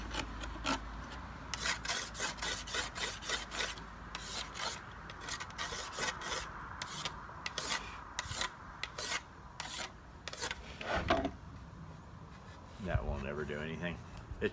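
Porcelain RCA record album being sharpened with a steady series of close, gritty rasping and scraping strokes, rough and rhythmic, with a voice speaking over parts of it.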